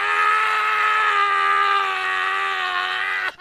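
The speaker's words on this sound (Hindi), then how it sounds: "पर कुछ देर बाद नरेश और सुरेश को उदय की बस चीखें सुनाई दी" A man screams in a horror story scene, one long sustained anguished cry, loud and close, holding steadily for several seconds before cutting off abruptly.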